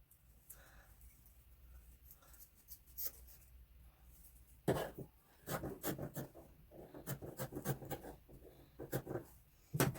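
Scissors cut a dollar store Santa hat in half with close, scratchy snipping strokes that come in bursts, sparse at first and then quicker and denser toward the end.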